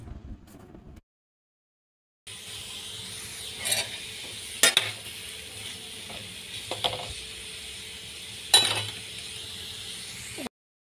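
Chopped onions go into a pan for mutton curry and fry, a brief quiet gap then a steady sizzle with several sharp metallic clinks and scrapes of a stirring spoon, with no voices.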